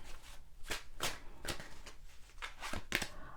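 Tarot cards being shuffled by hand in quick, soft riffling bursts, several short rustling flurries close up in a quiet room.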